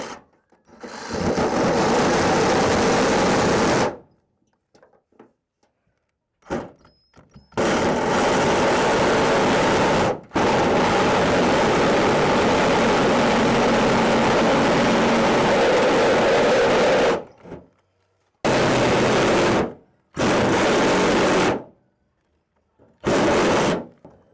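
A Sawzall reciprocating saw cuts exhaust holes into a bus for a portable AC unit, roaring loud and close in several long bursts separated by sudden silences.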